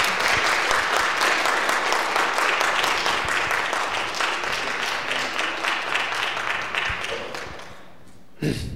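A congregation at a Korean church gives a pastor a warm welcome with thick, even applause that holds steady, then gradually thins and fades out near the end.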